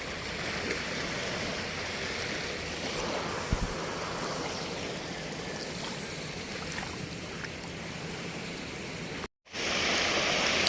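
Large waves breaking on a shore on a rainy morning at a fishing beach, a steady loud wash of surf that fills the clip, with a sharp thump near the middle and a brief dropout near the end.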